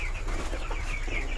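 Chickens clucking close by at a house, a steady run of short overlapping clucks and chirps with no talk.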